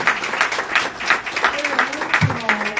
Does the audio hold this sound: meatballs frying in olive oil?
no